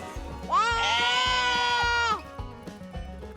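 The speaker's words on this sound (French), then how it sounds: "Il y a les moutons qui broutent l'herbe dans une prairie" A sheep bleats once in a long, wavering cry in a traditional village meadow, fairly close and loud, with soft background sounds before and after.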